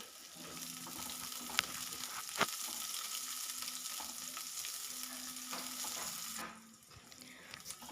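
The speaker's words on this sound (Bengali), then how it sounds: "সে কুচিয়ে রাখা পেঁয়াজটা আমি দিয়ে দিচ্ছি দিয়ে ভালো করে নাড়াচাড়া করে নিচ্ছি" Chopped onion sizzles steadily in hot mustard oil while being stirred, with a few sharp scrapes of the spoon against the pan and a quieter patch near the end.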